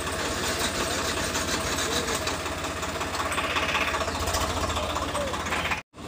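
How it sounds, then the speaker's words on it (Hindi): The starter motor of a Yamaha FZ-S V3 BS6 motorcycle cranks while the engine fails to start. It makes a loud, close, steady rhythmic churning that continues for nearly six seconds and then cuts off abruptly. "इसका सेल्फ का बटन मारने के बाद इसका देखा सेल्फ का मोटर रोटेशन हो रहा है"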